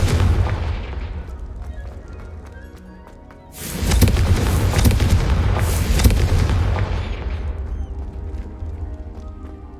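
A Confringo fire spell explodes in the video game Hogwarts Legacy: a loud, booming blast swells in and rumbles on for several seconds, thick and sustained, with no talk over it.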